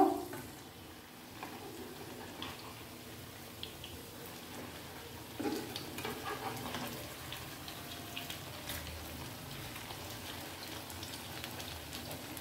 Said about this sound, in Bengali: আবার একটু ভাজা হোক